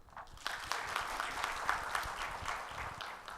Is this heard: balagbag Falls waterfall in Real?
no